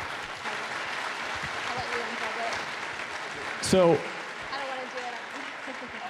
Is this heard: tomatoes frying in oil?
no